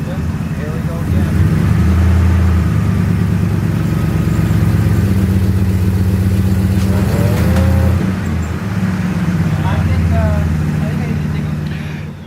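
A Porsche 911 stuck in dug-out ground revs its engine to regain traction: a loud, sustained droning roar that swells and eases in long pushes, with people talking over it.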